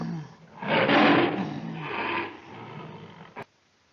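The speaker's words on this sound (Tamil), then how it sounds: "சிங்கத்தின் சத்தம் என்ன?" A lion's roar, loud and close, swelling into one long rumbling burst, then a second weaker roar, then a short low grunt at the end. No talk.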